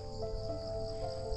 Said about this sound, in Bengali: শুধু পোকার আওয়াজ,